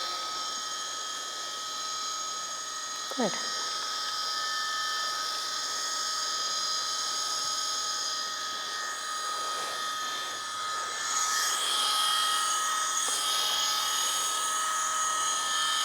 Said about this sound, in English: with the Dremel on, again, repeating that process with touching the nail